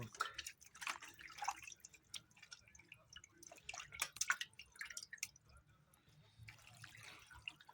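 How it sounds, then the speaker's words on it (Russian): Water splashes and trickles in bursts into a pot, with drips and liquid sloshing, fairly close, amid scattered kitchen clatter. "Заливаем все это дело водой"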